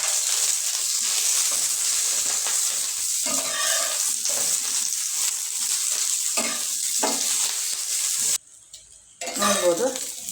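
Chillies frying in a little oil for a North Karnataka-style chilli chutney: a steady bright sizzle with intermittent stirring scrapes and utensil clinks, briefly cut off near the end before the frying resumes.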